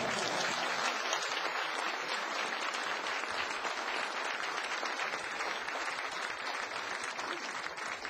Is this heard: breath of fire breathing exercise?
no